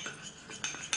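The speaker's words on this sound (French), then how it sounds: "je mélange ma base" A metal utensil stirs a gold lip gloss base in a small dish, giving a few quick soft clinks and scrapes close by.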